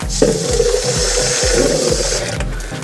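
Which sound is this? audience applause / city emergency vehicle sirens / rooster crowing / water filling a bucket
water filling a bucket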